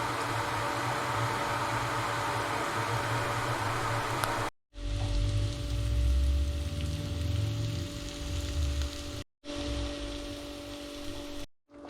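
Onions frying in a pan for a sausage curry give a steady, dense sizzle that runs close and loud, broken by a few abrupt cuts.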